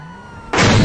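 A car crashes in the video game GTA V: after a quiet moment, a sudden loud, close impact bursts in and holds as a broad, heavy crunch to the end.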